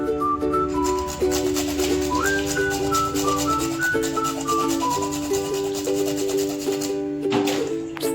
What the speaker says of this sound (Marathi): थोडं जायफळ घालणार आहोत किसून